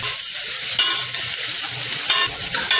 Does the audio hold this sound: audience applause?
no